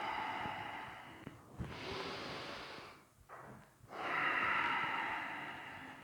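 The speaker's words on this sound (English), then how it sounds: "And from here, 2 breaths. So inhaling and exhale." Two slow, deep cleansing breaths during a yoga class, each a long airy inhale and exhale, close and soft, separated by a brief quiet pause, with no talking.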